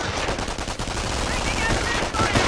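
Machine gun fire in the video game Company of Heroes, from an enemy MG team: a steady, dense rattle of automatic shots running throughout, with faint other battle noise.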